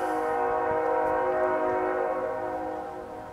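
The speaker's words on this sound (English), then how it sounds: "the fact that I'm hearing a train means that the freight's moving" A freight train rolls by with its horn sounding a long, steady chord over the rumble of the cars, moderately distant and easing off toward the end.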